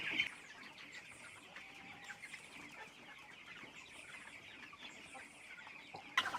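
Four-week-old chickens in a barn make soft, continuous clucking and peeping as a faint background murmur, with a few slightly louder calls near the start and end, and no talk.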